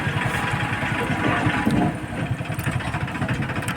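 A JCB backhoe loader idles nearby at a shop opening, its diesel engine making a steady, throbbing low rumble that continues throughout with slight rises and dips, and no talk.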